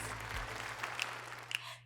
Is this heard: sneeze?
no